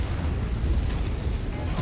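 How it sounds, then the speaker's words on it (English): Ammunition cooks off inside a damaged BattleMech in MechWarrior 5: Mercenaries, a dense, loud rumble of muffled booms and bursts filling the short stretch without pause. "Looks like that guy's going through some ammo explosions."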